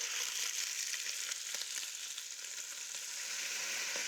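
Mussels hitting a pan of hot olive oil and garlic, a steady bright hiss and crackle of frying, close and even throughout with no talk.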